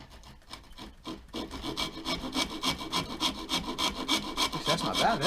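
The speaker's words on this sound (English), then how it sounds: "And we could even sand this." An old axe's wooden head and wedge being sanded by hand, with rhythmic scratchy back-and-forth strokes that grow steadier and louder, close up and with no one talking.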